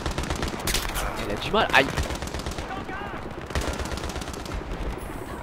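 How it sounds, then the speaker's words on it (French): Rapid bursts of automatic gunfire from the Battlefield 3 campaign crackle steadily across the whole stretch, dense and close, with a brief voice speaking over the shooting. "Il tire les mecs."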